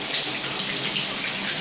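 Shower water sprays at strong pressure in a steady, loud, close hiss with no break and no voices.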